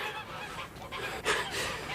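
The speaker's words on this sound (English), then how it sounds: "I caught one of the geese, a fine, big one with a barred tail" A fine, big goose with a barred tail honks in a BBC radio drama of Sherlock Holmes and the Blue Carbuncle, giving a few close, rough honks over a busy background, the loudest burst coming near the end.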